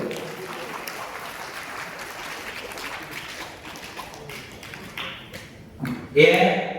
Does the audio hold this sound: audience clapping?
yes